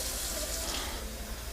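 Water pours into a drinking glass, a brief, soft, continuous splashing gush heard up close.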